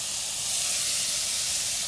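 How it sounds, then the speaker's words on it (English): Onions sizzle in olive oil in a pan as ratatouille cooking begins, giving a steady, bright hiss at moderate volume with no talking. "we're hearing a nice sizzle."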